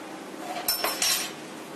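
A utensil clinks against a bowl while eggs, potato, black pepper, salt and chopped coriander are mixed, giving a few quick metallic taps and scrapes close by in a quiet kitchen, with no talk.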